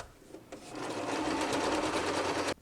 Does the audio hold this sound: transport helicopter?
no